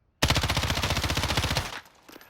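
Rapid automatic fire from the M13 rifle in Call of Duty Warzone, a burst of evenly spaced loud shots lasting about a second and a half, then a short tail of echo and faint clicks.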